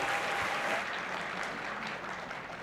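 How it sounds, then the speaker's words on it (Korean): Applause from a lecture audience welcoming the speaker, a steady dense patter of clapping filling the room throughout. "큰 박수로 환영해 주시면 감사하겠습니다"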